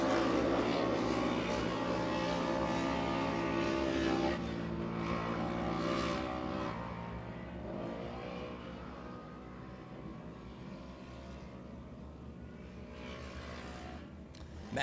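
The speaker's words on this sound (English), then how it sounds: "Man, Braden Cross car just sounds so horrible" Braden Cross's short course off-road race car runs badly, a rough, droning engine with harmonic tones that wavers and slowly fades as the car moves away, alone with no talk over it.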